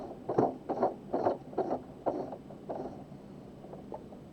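A Pfaff Smarter 140s/160s sewing machine stitching fabric, with a run of rhythmic mechanical pulses at a steady pace that fade toward the end, heard up close with no talking.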